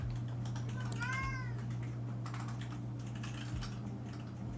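A house cat meows once near the microphone, a short rising-falling call over steady computer keyboard typing and a low background hum.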